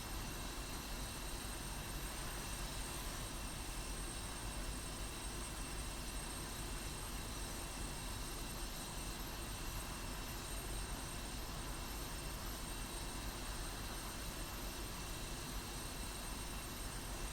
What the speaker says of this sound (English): Yes, I'm taxiing a bit fast, but I'm just taxiing straight ahead.